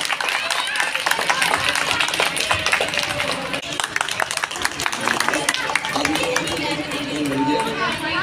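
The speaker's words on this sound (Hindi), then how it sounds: "भवन सिंह नेगी, तालियां इनके लिए जोर से, जोरदार तालियां।" Audience applause at an Uttarakhand foundation day event: dense, steady clapping fills the whole stretch while a voice talks over it.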